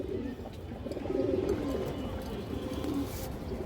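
Old-breed pigeon with a purple neck sheen cooing close up, a low throaty burr swelling and fading in the middle, alone over faint background noise.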